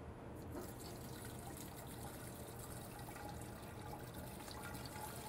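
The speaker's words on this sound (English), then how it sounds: "I'm just going to go ahead and pour this right in." Fermented beet kvass pours steadily into a strainer jar in a kitchen, a continuous faint splashing and trickling of liquid with no break.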